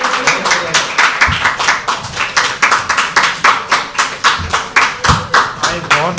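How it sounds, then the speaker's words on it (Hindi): An audience claps steadily after a Hindi poetry performance at a studio, the dense rhythmic clapping running throughout under a little background voice. "सनी भाई के लिए जोरदार तालियां गाइस।"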